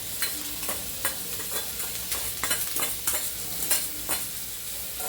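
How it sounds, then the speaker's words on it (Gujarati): Boiled tindora tipped into a hot pan with turmeric and stirred, a rhythmic series of spatula scrapes and clicks over a steady sizzle, close up with no speech. "આ બાફી ગયેલા જે બફાઈ ગયા છે ને ટીંડોળા એ નાખી દો અંદર"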